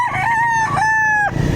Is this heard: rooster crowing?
yes